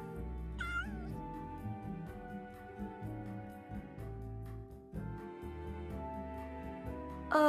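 A kitten meows twice, a quick high mew near the start and another at the very end, over soft background music.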